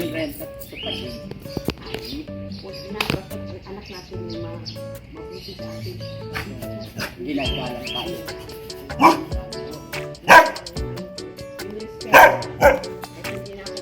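A dog barks a few times in short bursts, fairly close, amid birds chirping and people talking in the background.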